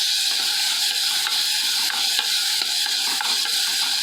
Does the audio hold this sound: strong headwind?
no